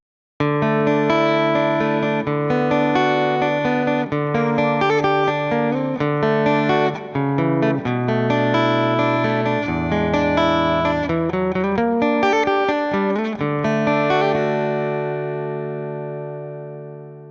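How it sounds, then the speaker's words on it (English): Electric guitar played through a TONEX Plug with a crazy clean preset, a sustained, bright chordal outro phrase with shimmering effects, loud and alone, ringing out and fading over the final seconds. "So this next one is based on the crazy clean preset, and this is the sound that I was using for my acoustic gig the other night."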